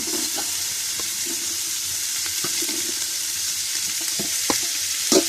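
Capsicum and spring onion lightly frying in a pan, a soft steady sizzle with occasional spatula clicks and scrapes, close and without speech.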